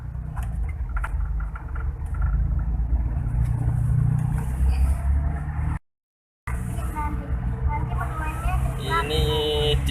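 Daihatsu Charade Turbo engine running steadily while driving at normal load, a continuous low drone with faint patter, briefly cut out by a gap of silence, with talk over it.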